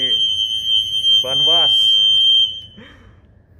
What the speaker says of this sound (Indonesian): Bentar, alarm gue bunyi.